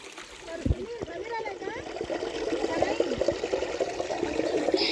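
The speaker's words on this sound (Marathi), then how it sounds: "इथे झरा वाहतोय" A clear stream trickles and splashes over pebbles in a quiet Konkan village spot, a soft continuous flow with small bubbling splashes that grows slightly louder, heard close and alone.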